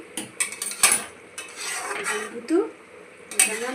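A metal utensil clinks and scrapes repeatedly inside a pot of katla fish curry while potatoes are cut, irregular close knocks and rattles over a faint simmer.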